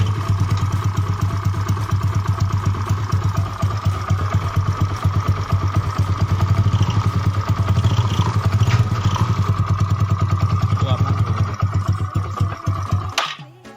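A Yamaha Mio 150cc scooter engine runs with a steady, slightly rough idle, loud and close, holding an even chattering rhythm with a mild swell partway through before cutting off near the end.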